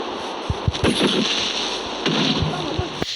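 An explosion in the video game Minecraft, with a sharp crackling blast followed by rumbling debris-like bursts and a second burst shortly after, under faint voice sounds.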